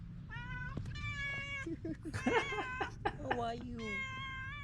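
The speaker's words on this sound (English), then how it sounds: "The cat literally sounds like a soundboard where there are different meows" A cat gives a run of varied meows, several distinct calls with rising and falling pitch, close and clear, while a person speaks to it briefly in between.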